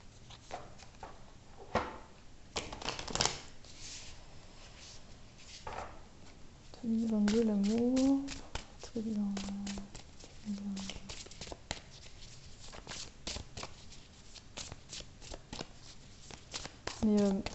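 Tarot cards being shuffled by hand for a card reading, with soft riffling and patting bursts scattered across the clip; someone speaks intermittently between the shuffles.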